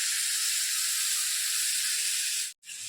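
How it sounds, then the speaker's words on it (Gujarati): Fenugreek seeds sizzle in hot cooking oil with a loud, steady, close hiss that cuts out briefly near the end before resuming. "મેથી આપણી સરસ તતરી ગઈ છે."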